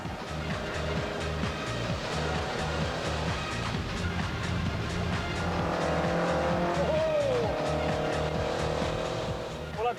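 A revving souped-up Morris Minor car engine drones under a steady road rumble, with a brief tire squeal midway and voices faintly in the background.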